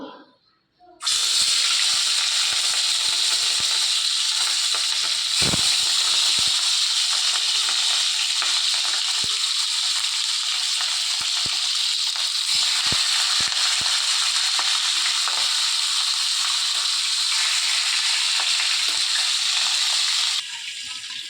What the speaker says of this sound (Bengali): এখানে কড়াইয়ে তেলটা দিয়ে দিয়েছি, তেলটাও ধোয়া হয়ে গেছে, গরম হয়ে গেছে। মাছটাকে এবার ভেজে নেব।